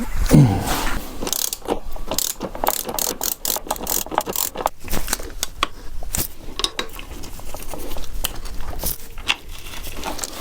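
Fastener being screwed in during a Yamaha TZR 250 motorcycle rebuild, with rapid ratchet clicks in repeated bursts and occasional metallic clanks of tools, close and fairly loud.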